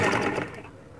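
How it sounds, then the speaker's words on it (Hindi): Sewing machine stitching piping onto a baby girl's trouser, a dense steady motor whir loud at the start and fading off over about a second, with no voices. "सेम हम इसकी भी सिलाई पाइपिंग के साथ साथ ही लगा देंगे।"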